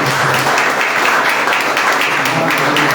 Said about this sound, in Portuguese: Aplaude então o Senhor.